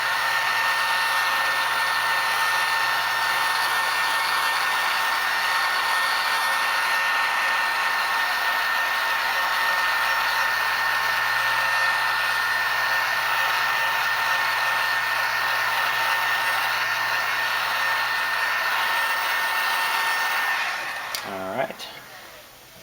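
A hair dryer blows steadily on freshly painted parts of a 1/1400 scale Enterprise model kit, a loud continuous close whoosh that holds for about twenty seconds before switching off abruptly with a brief rattle.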